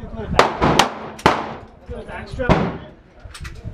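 A .45 handgun fires four sharp, close shots at an uneven pace, each with a short ringing tail, and quieter background noise fills the gaps between them.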